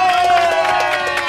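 Audience applause and crowd noise inside a motorhome challenge show, quick rhythmic clapping pulses mixed with cheering voices, close and lively over the short stretch.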